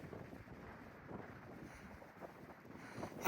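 Wind buffeting the microphone near the summit of Indian Mountain in North Carolina, a steady broadband rushing roar with gentle gusty swells, close and continuous with no voices.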